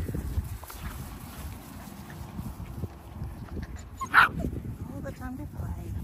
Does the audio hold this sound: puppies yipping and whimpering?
yes